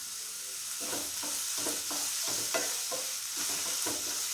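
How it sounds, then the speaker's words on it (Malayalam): Chopped onions with salt sautéing in a pan for egg pepper masala, a soft continuous sizzle broken by a regular series of stirring scrapes, fairly quiet and with no talking. "ഇതിൽ നമുക്ക് ഉപ്പിട്ട് കൊടുത്ത് ഉള്ളി ഒന്ന് വഴറ്റിയെടുക്കും."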